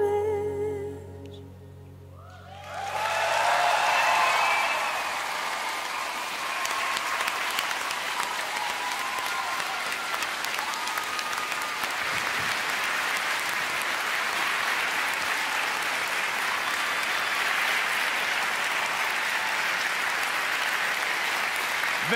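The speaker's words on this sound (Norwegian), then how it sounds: "Velfortjent applaus til Rebecca." Audience applause and cheering after a live song on The Voice Norway TV show, bursting in as the music's final notes fade and continuing as a loud, sustained wash of clapping.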